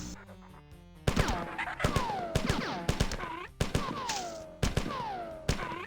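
Repeated gunfire from the 1994 video game Marathon, loud close bursts of shots in quick succession, each with a ringing, sweeping tail, firing in clusters over several seconds.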